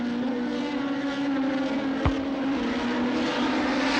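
Brabham-Ford and Matra-Ford racing cars at the 1967 Albi race, their engines a loud, steady droning whine with one sharp thump partway through; no one speaks.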